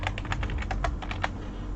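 A computer keyboard is typed on at close range as an identity card number is entered, about a dozen quick, uneven clicks over a low room hum, with no voices.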